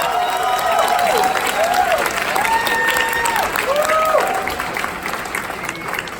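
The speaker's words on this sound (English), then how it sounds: "please give a nice warm round of applause" Applause from an audience at the Apollo Theater, a dense wash of clapping that holds strong and then fades gradually, with a few whoops and cheers rising over it.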